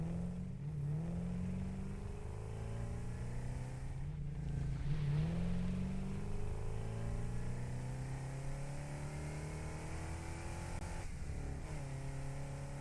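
A video game car engine hums and revs steadily throughout, with smooth rising and falling pitch sweeps as it accelerates and shifts, fairly quiet and with no talking.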